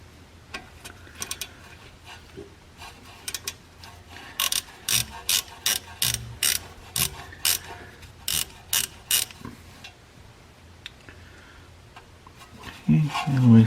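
A ratchet works a 10mm bolt on a Chevy wheel speed sensor, giving a rapid series of evenly spaced metallic clicking bursts, close and loud in a garage, with quieter handling noise before and a knock near the end.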